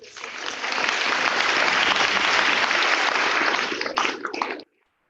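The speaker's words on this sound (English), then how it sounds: "Please give applause to our newest members" An audience at an honor society induction ceremony gives the newest members a sustained round of applause, steady and full for several seconds, then a few last claps before it stops abruptly.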